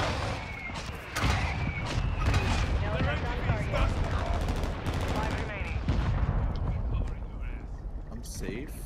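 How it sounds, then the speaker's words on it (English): Javelin missiles fired in a Call of Duty match on Ashika Island, heard as dense, loud bursts of launches and explosions with ongoing gunfire, mixed under players talking throughout. "I'm firing javelins near Moose."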